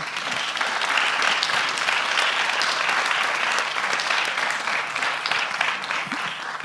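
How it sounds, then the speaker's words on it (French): An audience applauds at a closing event, a dense, even clapping that holds steady for the whole stretch, moderately loud and without speech on top. "Donc je propose qu'on les applaudisse tous"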